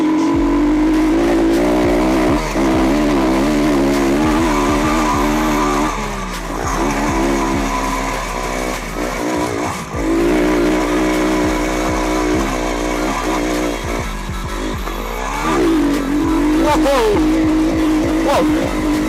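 A 150cc dirt bike engine runs and revs repeatedly, its buzzing note rising and falling steadily and close by throughout.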